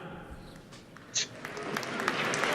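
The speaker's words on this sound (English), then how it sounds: "It's really reaching for applause." An audience at the Samsung Galaxy S9 unveiling breaks into applause that starts sparse and builds into a fuller, rising wash of clapping, preceded by a brief sharp click and low background murmur.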